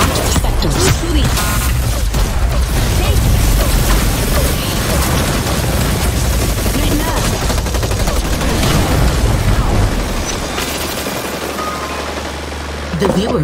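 Gunfire in the battle royale game Hyper Scape: continuous rattling shots and mechanical clatter in a loud, busy mix, thinning out near the end, with voices talking over parts of it.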